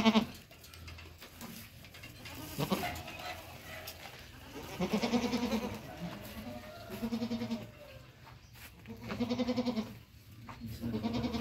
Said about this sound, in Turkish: Bunlar keçilerimizin yavruları.